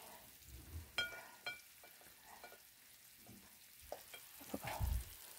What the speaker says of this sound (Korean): 버터로 이렇게 빵을 좀 구워서 버터 구워서